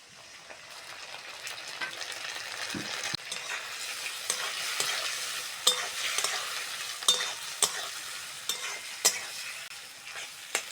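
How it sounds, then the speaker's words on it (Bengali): Shrimp fry with onion in a pan, a steady crackling sizzle that grows louder as it goes, punctuated by repeated sharp spatula clanks and scrapes against the pan, close with no speech. "চিংড়িটা ভালো করে ভেজে নিয়েছি"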